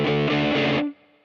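A Gibson Memphis Larry Carlton ES-335 played through distortion on the bridge pickup strikes a short, thick, chugging chord in a quick rhythmic burst, then is muted abruptly, leaving a faint ringing tail.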